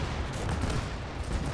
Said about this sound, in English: Well, that artillery isn't very useful, but it's helping us stop them from pushing us at least.